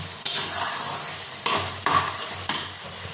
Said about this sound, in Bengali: এবার আমার এটা হাই ফ্লেমে আমি ভালো করে নাড়াচাড়া করবো, তাতে নিচটা লেগে না যায়